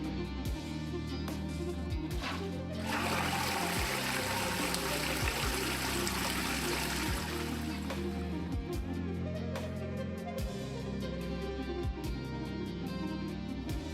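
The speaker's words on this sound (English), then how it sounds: "Close the push button and check for correct flushing operation." Water rushes and trickles from a Geberit toilet flush fitted with a DuoFresh unit, a steady close pour that swells after a few seconds and then settles into a continuous flow.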